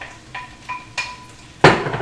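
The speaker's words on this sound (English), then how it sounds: "which now join the shallots, and I'm stirring it around. Can you hear it sizzle?" Cucumbers and potatoes land in a pan with shallots and get stirred, giving a few sharp utensil clanks against the pan and a louder scraping burst near the end over a low background hiss.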